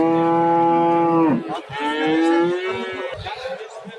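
A large cow at the Uzgen livestock bazaar lets out a long, loud, close moo that dips and then rises again, followed by fainter crowd noise and market bustle.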